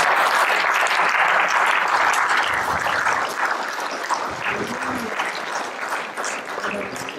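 A church audience applauding together, a dense, steady wash of many hands at close range that holds strong for about seven seconds, easing slightly toward the end, with faint voices mixed underneath.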